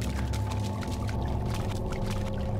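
Splashy footsteps wading through shallow water in the video game DayZ, a steady run of soft sloshing steps over a constant low ambient rumble, no talking.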